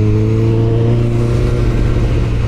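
Honda CBR1000RR-R Fireblade motorcycle engine held at a steady high rev, loud and close with a smooth sustained drone and no speech.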